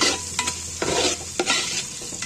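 Sliced onions sauté in a pan for tomato rice in a home kitchen, giving a continuous close sizzle broken by several sharp scraping stirs of a spoon against the pan.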